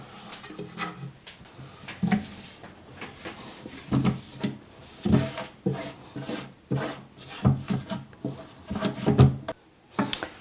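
A cloth rubs and scrapes inside an empty wooden drawer as it is wiped down. Rough rasping strokes repeat close by, with soft wooden knocks and bumps between them and no speech.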